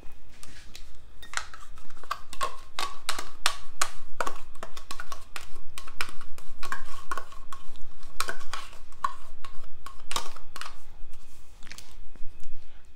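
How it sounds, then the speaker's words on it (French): Yogurt being stirred in a mixing bowl for an olive, bacon and goat cheese cake batter. A spoon scrapes and clacks against the bowl in quick, busy, close-up strokes that continue steadily throughout. "Alors, j'ai mélangé mon yaourt."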